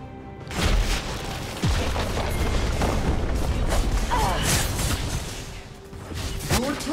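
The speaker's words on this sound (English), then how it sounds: "Your turret has been destroyed." Turret destruction in a League of Legends match: heavy booms and crashing impacts over dense game effects, with voices and game announcements mixed throughout.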